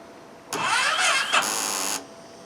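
A motorcycle engine started with the clutch held in: a loud, close cranking that catches and runs for about a second and a half before cutting off, with no talk.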